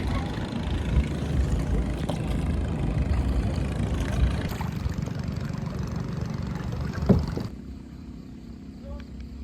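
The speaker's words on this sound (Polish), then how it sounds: "Biorę się za wiosła i płyniemy." Kayaks paddled on the river at Don Det, Laos, with a steady low wash of water and a motor drone throughout, faint splashes and knocks, ending in quieter water sound.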